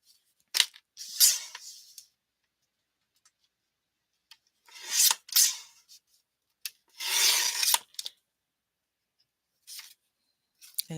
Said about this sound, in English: I'm just gonna open it like this and just trim it down once more